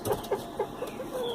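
Hens and chicks being fed at a small home flock, giving a string of short clucks roughly every third of a second, fairly close and clear over a soft background hiss, with no talk.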